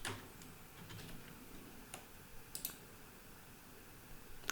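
Mouse clicks toggling an app's state on a computer, a few sharp, close ticks spaced irregularly over a quiet background.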